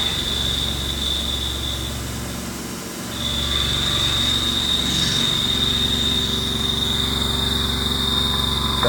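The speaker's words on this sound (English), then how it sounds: "Again, this is a Haas Mini Mill 2. Low rigidity, low horsepower machine," A Haas Mini Mill 2, a low-rigidity, low-horsepower CNC machine, high-feed mills titanium with an Iscar cutter, producing a steady loud high whine over a constant machine drone, with a short change in tone partway through.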